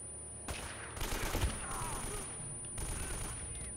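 Gunfire in Uncharted: Drake's Fortune, several bursts of automatic shots in quick clusters with gaps between, moderately loud against a low ambient background.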